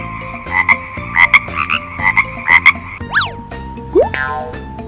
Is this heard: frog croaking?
yes